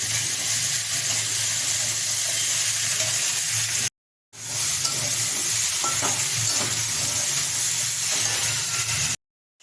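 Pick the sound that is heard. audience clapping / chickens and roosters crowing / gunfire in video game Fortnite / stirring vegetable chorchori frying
stirring vegetable chorchori frying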